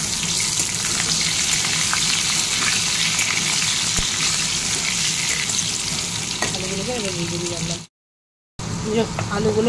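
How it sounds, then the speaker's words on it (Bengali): Potatoes fry in oil with cumin seeds and bay leaf, a loud, close, continuous sizzle with occasional stirring. A voice briefly comes in near the end, around a short silent gap. "জিরে ফোড়ন দেবো, তেজপাতা দেবো, দিয়ে সাথে আলুগুলোকে ভাজবো।"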